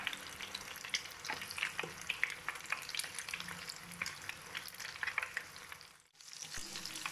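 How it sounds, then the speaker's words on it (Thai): Eggs frying in hot oil over high heat, a close, continuous sizzle and crackle with scattered pops, briefly dipping near the end. "เนี่ยอันนี้ใช้ไฟแรงนะคะ เนี่ยเดี๋ยวไข่ขาวเขาก็จะกรอบแบบนี้นะคะ"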